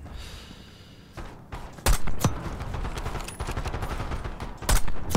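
Gunfire in the Call of Duty Black Ops 6 campaign: several sharp, loud gunshot cracks stand out over a steady rumble of combat, some spaced apart and some close together.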